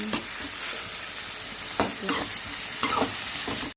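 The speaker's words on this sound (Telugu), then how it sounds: "ఈ ఆయిల్లో అయితే టమాటాను ఆనియన్ అయితే వేసుకొని ఫ్రై చేసుకున్నాం అండి" Tomato and onion frying in oil in a pan, a steady close sizzle with a few brief stirring scrapes and clatters, no voices.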